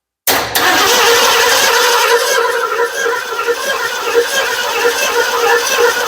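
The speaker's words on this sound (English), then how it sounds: "we're going to crank it over a little bit and see if gas starts shooting into this honey bottle" Starter on a vintage Ford Econoline camper van cranks the engine over continuously without catching, a loud steady churning that begins abruptly and runs unbroken from start to finish, with no voices.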